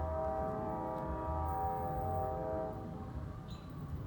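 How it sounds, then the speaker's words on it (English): A passing train rumbles low and steady while a sustained horn tone holds over it, moderately distant and unbroken, with no voices. "We got another train coming."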